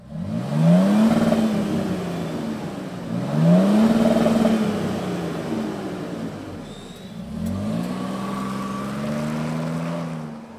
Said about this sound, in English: let's fire this thing up and hear what that catback exhaust sounds like